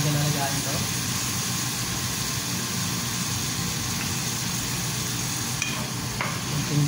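Bottle gourd sautéed in a pan, a faint steady sizzle with occasional light scraping of stirring that continues under a low background hum, with a voice speaking over it.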